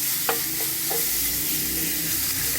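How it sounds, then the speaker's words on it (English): Italian sausage meat squeezed from its casing browns in a frying pan, giving a loud, constant sizzle with a few short scrapes of the spatula near the start and no voices. "Just going to brown it up a little bit in your pan"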